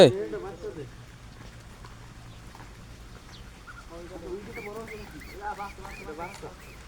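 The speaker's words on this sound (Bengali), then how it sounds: "চিনা হাঁস।" Chinese ducks at a farm in Saudi Arabia quack in short, nasal bursts, scattered and then more frequent toward the end, fairly faint and close, with people talking around them.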